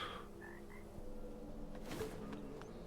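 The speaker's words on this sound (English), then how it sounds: "Run away, you little frog." A frog in the video game Wuchang: Fallen Feathers lets out a couple of brief croaks at the start, then fades into a quiet ambient bed broken by a faint clatter.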